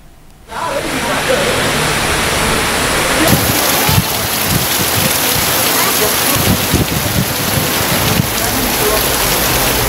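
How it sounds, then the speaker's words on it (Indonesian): A heavy hailstorm roars steadily and loudly, with dense pounding rain and hail and gusting strong wind, a constant wash of noise lasting throughout, in Maros Regency, South Sulawesi. "fenomena hujan es disertai angin kencang terjadi di Kabupaten Maros, Sulawesi Selatan"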